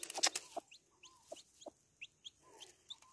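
High, short chirping peeps from newly hatched chicken chicks, repeated irregularly, with a few sharper calls near the start; fairly close and otherwise quiet.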